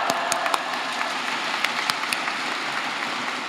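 A church congregation at a Korean mission association service claps to welcome the pastor to the pulpit, a dense, steady patter of applause with a few sharper individual claps standing out.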